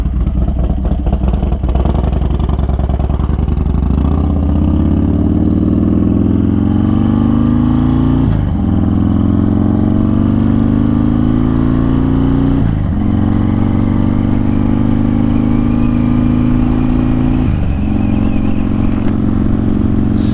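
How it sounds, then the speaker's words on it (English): Harley motorcycle engine pulling through the gears while riding, loud and close throughout, with rising revs in each gear broken by three clear shifts and steady wind and road noise underneath. "Definitely different riding a Harley after a weekend of riding sport bikes."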